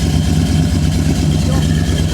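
A Lingenfelter-built Corvette C4 muscle car V8 idles at a low tick-over while warming up, a steady close rumble with a faint lumpy pulse that continues without a break.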